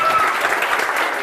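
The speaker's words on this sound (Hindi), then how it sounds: "बहुत सारी तालियां।" A game show studio audience breaks into steady, dense applause, with many hands clapping at once in a loud, continuous wash.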